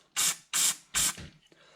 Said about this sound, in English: all I'm going to do is just spray it out